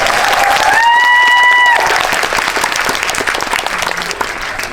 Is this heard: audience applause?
yes